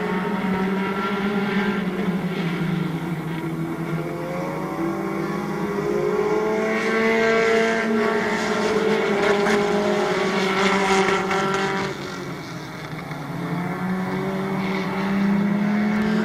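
Race cars on the final lap at Midvale Speedway drone steadily with overlapping engine tones that rise and fall as the field circles the track, loud and continuous with a brief dip.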